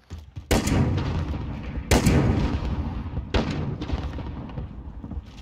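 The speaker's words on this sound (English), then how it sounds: "he likes them exploding rounds" Exploding-round gunfire in Call of Duty Warzone: three sharp, loud bursts about a second and a half apart, each trailing into a rumbling, crackling tail over steady game noise.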